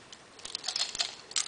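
A set of everyday-carry keys jangling close by in a short, quiet burst of light metallic clinks and taps, with no talking.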